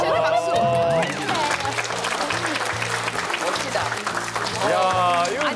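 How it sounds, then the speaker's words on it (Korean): Studio audience on a Korean talk show claps steadily for a female guest, with a voice calling over the start and a deep music sting underneath, then voices rising again near the end. "우리 현영 씨한테 박수."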